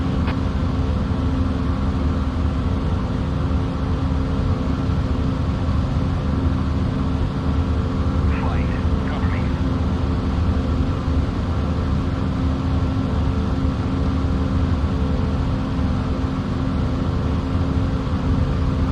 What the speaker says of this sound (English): And we're airborne over snowy England in a Spitfire.